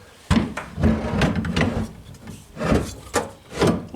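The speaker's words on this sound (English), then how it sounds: "Slide your rack over the top of the bushings." A truck bike rack scraping and sliding over plastic bushings, a series of close, rough rubbing strokes with short pauses between them.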